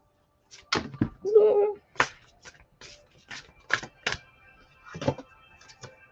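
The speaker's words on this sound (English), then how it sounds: "I'm going to try and shuffle these animal spirit cards." A deck of animal spirit cards is riffled once in a quick fluttering burst, surrounded by scattered clicks and light taps from handling the cards.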